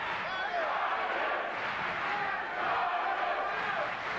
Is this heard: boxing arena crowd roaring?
yes